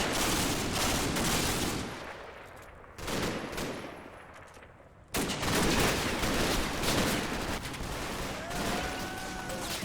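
Dense bursts of machine gun fire and scattered gunshots in the Combat Mission video game rattle continuously, loud and close, easing off briefly before a sharp return to heavy fire.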